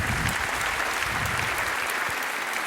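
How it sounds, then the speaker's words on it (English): A large conference hall audience at a technical talk on the Large Hadron Collider infrastructure applauds loudly and steadily, with dense continuous clapping throughout. "So please welcome, with a very warm applause, Severin and Stefan."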